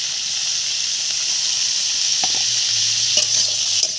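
Eggplant and chopped chilies frying in a pan for a vegetarian bottle-gourd-shoot and bori dish, a steady loud sizzle with occasional scrapes and clinks as the spoon stirs, no talking.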